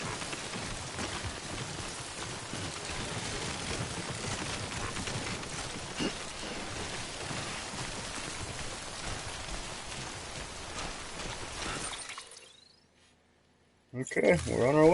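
Steady rain hisses across the landscape in Death Stranding, a dense even wash of drops that runs continuously, then drops to near silence before other game sounds return at the end.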